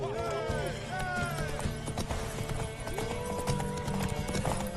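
Rhythmic hoofbeats of a galloping horse in The Witcher 3: Wild Hunt clatter along with voices talking over them and scattered game-like sound effects.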